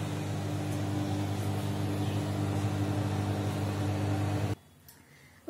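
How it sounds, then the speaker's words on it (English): A microwave oven heats a coconut and vanilla eggless mug cake with a steady, loud low hum and whir. The hum cuts off sharply near the end, followed by quiet and a brief click. "So we should put it in the microwave for 1 minute and 30 seconds."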